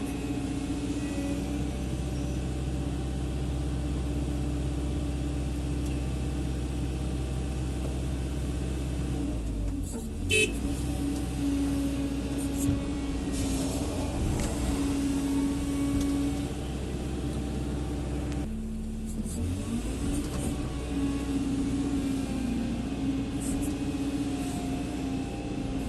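A hydraulic excavator digs earth from a bank and loads dump trucks on a worksite, its diesel engine droning steadily up close, dipping and surging twice as the machine works the bucket.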